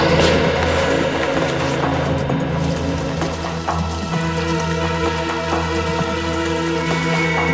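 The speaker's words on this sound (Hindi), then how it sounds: "बाहर से कुछ आवाजें आ रही हैं, जैसे पानी बह रहा है।" Flowing water heard from outside a room, a loud continuous rushing wash with a steady low hum beneath, no voices.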